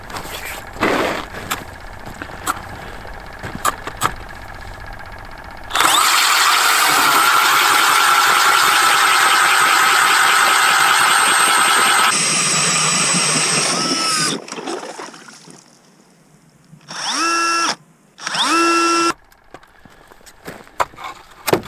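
A small power auger engine roars to life and drills loudly through ice for several seconds, then winds down, followed by short revving bursts and quieter scraping sounds.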